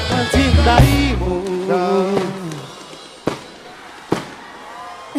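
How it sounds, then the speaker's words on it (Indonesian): New Year fireworks go off at an outdoor music show, with a few sharp, distant bangs popping over loud singing and band music and the murmur of a crowd. "Ayo delok kembang api."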